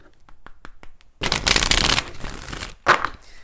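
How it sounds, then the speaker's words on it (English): A deck of oracle cards is riffled and shuffled in a dense, crackling burst after a few light taps, then a couple of quick snaps as the cards settle. "let's go ahead and do 4 shuffles"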